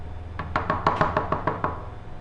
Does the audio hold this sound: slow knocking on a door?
yes